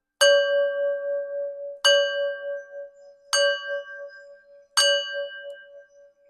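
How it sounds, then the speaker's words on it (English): A singing bell is struck four times at steady intervals, each strike ringing out clear and sustained with a bright metallic tone that lingers and slowly fades before the next, close and alone with no talk. "So I'm going to ring my singing bell now"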